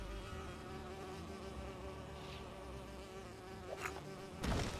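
Buzzing bees in the video game Lego Lord of the Rings, a low continuous insect drone under game background sound, with a sharper burst near the end.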